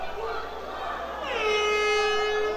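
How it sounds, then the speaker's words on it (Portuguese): A loud air horn sounds once at the end of an extra round in an X1 Kombat MMA fight, a sustained steady blast starting partway through over crowd and arena noise. "Mais uma vez, soa a buzina."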